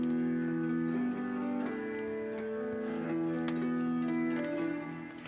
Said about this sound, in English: It sounds like that. That's the sound of this piano.